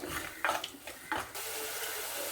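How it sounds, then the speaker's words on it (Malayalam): Water pours into a pan of curry made with fried tilapia, a steady close splashing stream with a couple of brief louder gushes, heard alone. "കുറച്ച് വെള്ളം ഒഴിക്കുക."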